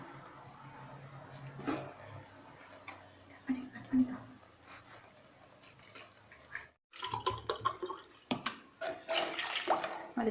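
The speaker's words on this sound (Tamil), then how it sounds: "ஸோ நம்ம இப்போ தண்ணி அளந்து ஊற்றிக்கலாம்." Water is poured into a pot while cooking chicken biryani, a pouring and splashing sound that gets stronger in the second half. A person talks quietly underneath.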